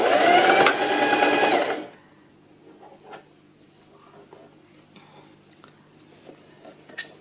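Sewing machine stitching a sleeve onto a traditional Norwegian knitted sweater, running steadily and loudly for about two seconds before stopping, then quiet handling noises follow.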